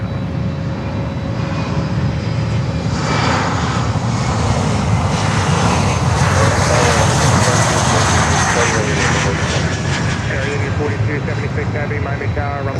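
Jet airliner descending to land at Miami airport, a loud steady roar of engines and rushing air swelling in the middle and easing off, with voices talking over it.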